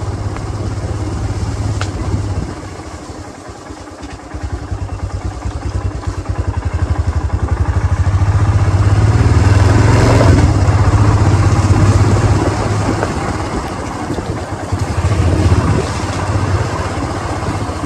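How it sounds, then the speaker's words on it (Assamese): A motorcycle ridden in rain on a road in West Karbi Anglong, with its engine running steadily and loud, rising and falling as it speeds up and slows, and a rough wind rush throughout. "বহুত দিনৰ মূৰত আৰু বাইকখন চলাইছোঁ"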